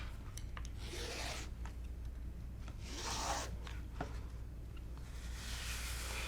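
Rotary cutter running through quilting fabric on a rotating cutting mat, several short rasping strokes spaced a second or two apart, quiet and close with no talk.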